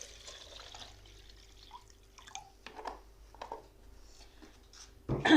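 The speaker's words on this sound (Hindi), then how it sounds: "इसके साथ हम इसके अंदर पानी डाल देंगे।" Water poured into a raw green mango sharbat, with light splashing and dripping trickles close by over a quiet background, ending in a louder rushing pour.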